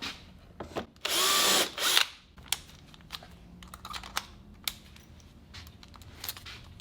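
A Montana brand 4-in-1 driver runs screws to fasten a wooden piece, one loud sustained motor whir of about a second, surrounded by close clicks, taps and handling noises.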